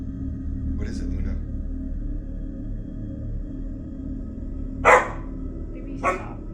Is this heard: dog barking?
yes